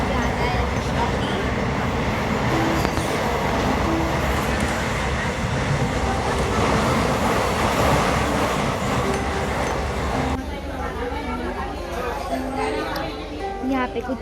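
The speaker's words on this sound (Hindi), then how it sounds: "ट्रेन में बैठ चुके हैं और हमें जाना है शिरडी।" Train ride to Shirdi heard from inside the carriage: a steady, loud rumble of rails and car noise throughout, with voices of passengers talking over it and a shift to quieter, clattering sound near the end.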